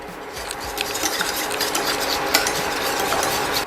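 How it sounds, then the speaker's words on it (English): A whisk stirs a sauce of evaporated milk and regular milk for macaroni and cheese in a pot. It makes a steady, close scraping swish that runs without a break, with no talking. "you want to whisk that as you go so it doesn't stick or burn"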